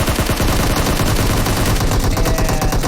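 Rapid, sustained bursts of automatic gunfire from hip firing in a video game, loud and close with dense overlapping shots running for three seconds without a break and no talking.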